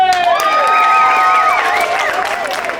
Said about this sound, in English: on the count of 3, I want you to clap, cheer, wolf whistle, stamp your feet